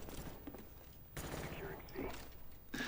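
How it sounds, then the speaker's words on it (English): Bursts of gunfire in a Call of Duty: Black Ops multiplayer Domination match, fairly faint and intermittent, mixed with game effects and footsteps, while a voice talks over parts of it. "You see the bullets kicking off."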